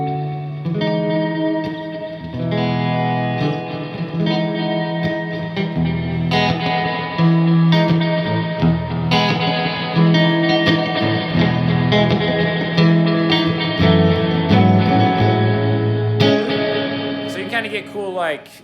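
An electric guitar plays through a Cathedral Reverb pedal set to a thick ambient wash, with sustained chords and notes blurring into long, layered reverberant tails.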